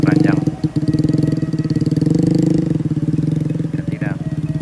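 A motorcycle fitted with baskets for carrying goods idles and putters loudly nearby with a steady pulsing engine beat, with brief voices over it, near an emergency bridge in Koto Rawang, Pessel.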